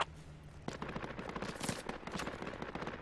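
Gunfire crackles in Project Reality combat, a rapid string of fairly faint shots, some in quick bursts, over a low background hum.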